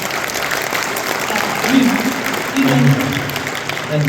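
A live audience at an evening event with a UFC lightweight champion in Chicago claps in a sustained, dense round of applause. Voices murmur and call out faintly beneath it.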